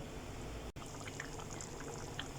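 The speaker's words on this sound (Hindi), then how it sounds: "अब ये बॉईल होना शुरू हो गया" Paneer lababdar gravy begins to boil in a pan, giving a soft, steady bubbling and faint popping bursts, quiet and close with no talk.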